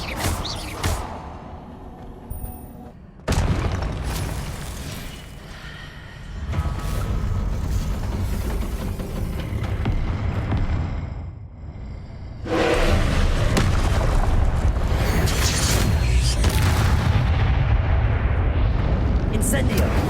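Explosive Confringo spell blasts in Hogwarts Legacy boom out in heavy, rumbling bursts, several loud detonations separated by brief lulls, with game sound effects and voices mixed underneath.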